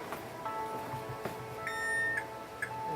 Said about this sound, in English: And I'm going to put the timer on.